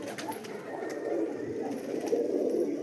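Pigeons coo low and steady, a few of the birds at a market stall close by, their murmuring calls layered over one another without pause.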